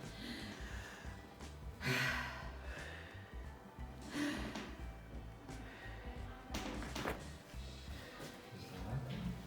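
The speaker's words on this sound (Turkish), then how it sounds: "Bir nefes al bakalım." A patient takes deep breaths during a chiropractic adjustment, with several slow, close sighs and exhales rising and falling over soft background noise and a few light thuds.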